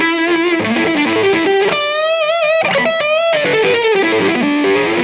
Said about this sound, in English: a distortion pedal that actually sounds like an amp distorting